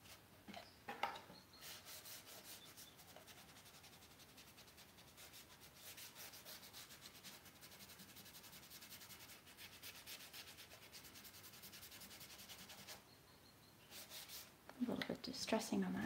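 Wooden farmhouse nightstand sanded to distress it, faint soft rubbing strokes running steadily, with a brief pause and some low quiet talk near the end.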